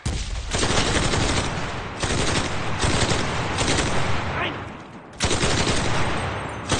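Sustained bursts of automatic machine-gun fire in the Enlisted video game on the Rzhev map, loud and dense, with a short pause before the firing resumes near the end.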